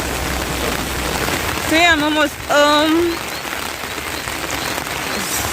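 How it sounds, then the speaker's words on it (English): Heavy tropical rain in Dominica falls as a steady dense hiss throughout, with a person talking briefly over it partway through. "I don't know if you can see, but it's really raining."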